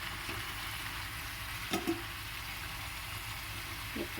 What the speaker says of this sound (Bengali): বেগুনটা না ভাজলেও হয় কিন্তু একটু ভেজে নিলাম